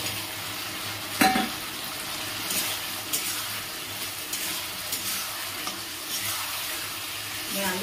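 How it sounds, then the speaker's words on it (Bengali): Potatoes sautéing in spice masala in a pan for a Bengali katla fish curry, a soft, faint sizzle with a sharp utensil clatter early on and gentle stirring scrapes afterward. "আলুর সঙ্গে আমি মশলাটা ভালো করে কষিয়ে নেব।"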